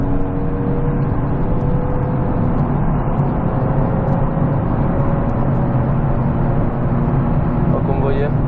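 A 2009 Nissan 370Z with a six-speed gearbox drones steadily while held in fourth gear through bends, its engine a continuous, even hum with a faint tonal whine and little change in pitch.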